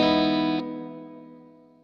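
A reverb plugin's smooth, warm tail rings out alone: a sustained harmonic wash drops in level partway through, then fades slowly and evenly over almost two seconds.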